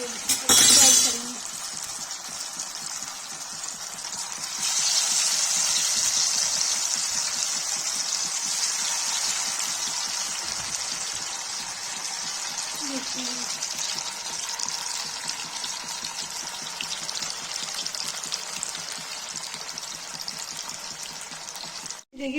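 Fish frying in hot oil for Kashmiri roasted fish fills the space with a loud, steady hissing sizzle and scattered crackles, close by and continuous, after a brief clatter at the start.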